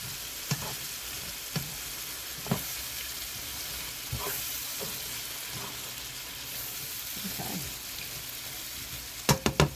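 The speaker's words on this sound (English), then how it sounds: "So let's just cook this for a minute and stir it around." Italian sausage sizzles steadily in a pan, with a few sharp scrapes and taps of stirring scattered through and a quick cluster of louder knocks near the end, no talking.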